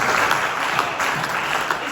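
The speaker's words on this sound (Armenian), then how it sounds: "ծափարեք Հիսուսին" A church congregation applauds during a sermon, with dense, even clapping that carries on loudly for the whole two seconds.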